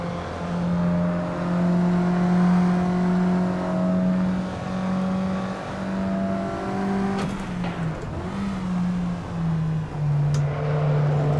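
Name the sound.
Mazda MX-3 car engine driving in Assetto Corsa video game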